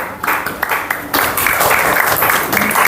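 Audience applause in a classroom teaching session, a steady wash of many hands clapping that swells after a second and keeps on loud to the end.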